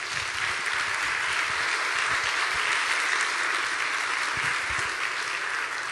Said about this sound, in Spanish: Denle otro aplauso a ese Dios grande y poderoso